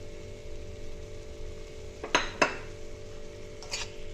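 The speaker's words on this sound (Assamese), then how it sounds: "ভালকৈ গোটেইখিনি মিক্স কৰি ল'ম।" A metal spatula scrapes and clinks in a pan as chicken is stirred with ground dried chillies and pepper for an oil-free chicken gravy. There are a few sharp knocks against a low steady background, with no talking.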